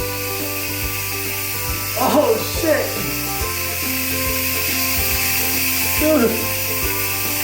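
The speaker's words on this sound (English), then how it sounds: "Look at all that steam coming out." Steam hisses steadily out of a pressure cooker making beef noodle soup, with a continuous mechanical rattling from the valve, as a man reacts with short startled exclamations.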